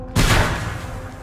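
A single loud burst of gunfire in the Mad Max video game cracks sharply and close, then trails off into a rumbling decay.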